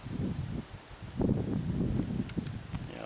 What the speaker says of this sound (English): It's kind of windy today, hard to get all these things in the shot.